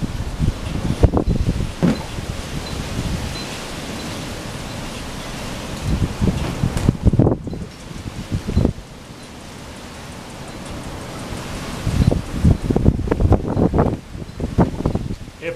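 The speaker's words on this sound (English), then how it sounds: "is it getting windy or is it just me?" Gusty wind buffets the microphone in rough, rumbling bursts that swell and ease, with rustling noise throughout and a brief lull partway.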